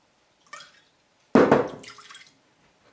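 A tablespoon of whiskey poured into a soy and Worcestershire deer jerky brine, a tiny drip followed by one short close splash and trickle, then quiet.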